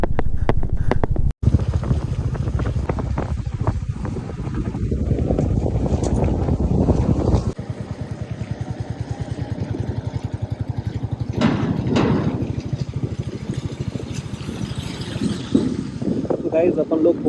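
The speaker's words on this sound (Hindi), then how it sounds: "नाइट में पहाड़ों पे बाइक राइड" Motorbike ridden at night on a mountain road, the engine droning close and steady with its pitch rising and falling as it climbs and shifts, heavy wind buffeting the microphone throughout.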